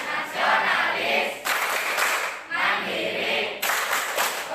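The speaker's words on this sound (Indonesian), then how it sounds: "mari sama-sama kita melakukan tepuk PPK dulu" A class of students performing the tepuk PPK clapping chant, bursts of group clapping in patterned rhythm with sudden shifts, lively and close by.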